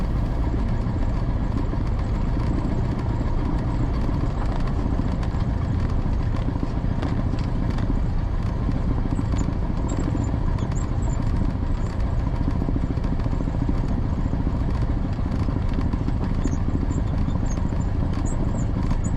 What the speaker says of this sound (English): So for now, we're just taxiing out here, taxiing to the FBO pad to do our run up.